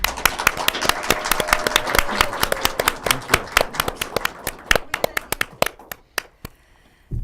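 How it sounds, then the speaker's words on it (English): Audience claps to welcome a film and TV actor onto a talk show: loud, sharp, close handclaps that grow sparser and trail off into scattered individual claps before silence. "let's give a really big round of applause for Joseph DOnofrio."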